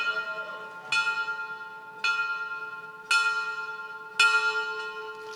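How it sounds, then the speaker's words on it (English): A bell rings four times at evenly spaced intervals at a Rutgers Business School convocation, each clear metallic strike ringing on and fading before the next, with no talk. "Please ring the bell."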